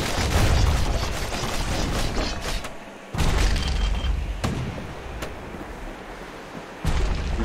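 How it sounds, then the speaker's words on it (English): Gunfire in the video game Bastion, heavy booming shots landing in uneven bursts, each followed by a deep rumbling tail, with a few sharp cracks in between. "I can hear somebody shooting at me"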